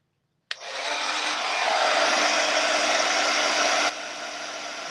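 A heat tool or dryer switches on abruptly and blows steadily on a very wet craft piece, a loud continuous whooshing roar that drops slightly in level near the end.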